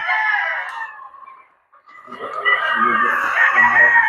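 A Boston Roundhead gamefowl rooster crows twice near at hand, a ringing first call, a short pause, then a longer hoarse crow.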